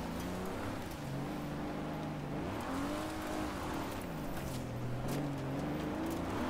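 Car engines in the Forza Horizon 4 racing game rev and drone steadily, pitch swooping up and down as the cars accelerate and shift, loud and continuous throughout.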